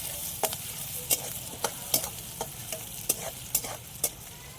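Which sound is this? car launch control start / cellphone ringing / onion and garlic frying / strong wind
onion and garlic frying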